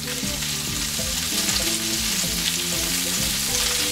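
Meatballs browning in a pan with a constant loud sizzle and crackle, accompanied by a repeating low tonal hum underneath, with no voices.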